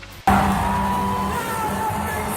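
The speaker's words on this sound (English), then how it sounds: "I got to see a crowd do crowd like this." Concert crowd at a show bursts into loud cheering and whooping after a brief quiet moment, a dense wash of voices that holds steady throughout.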